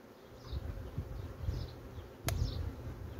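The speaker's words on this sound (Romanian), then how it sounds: "Urmăresc un pic albinuțile să văd dacă sunt interesate de acest siropel." Honey bees buzz steadily around sugar syrup at a hive, a close, continuous hum with individual bees passing near, plus one sharp click partway through.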